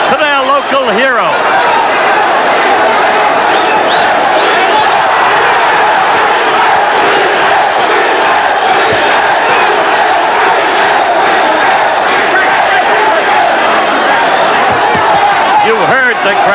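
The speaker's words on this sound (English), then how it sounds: "Their roars going through this baseball stadium" A boxing crowd in a baseball stadium roars loudly and continuously throughout, behind a commentator who talks over the noise.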